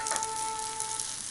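Mashed potato fries in oil with a constant bright crackling sizzle, close and steady, with a faint tonal hum underneath and no voices.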